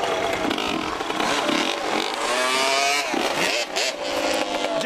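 Two-stroke engine of a Yamaha Banshee ATV revving during a wheelie, a loud, close, rising and falling buzz with several throttle blips and a short dip near the end.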